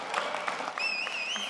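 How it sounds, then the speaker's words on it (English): Brief, fairly faint applause from a panel audience for a welder, with a whistle-like tone sliding in partway through. "Give her a round of applause."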